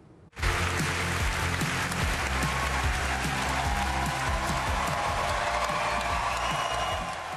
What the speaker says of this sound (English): it was the star of Back to the Future, Michael J. Fox, who got the biggest applause of the night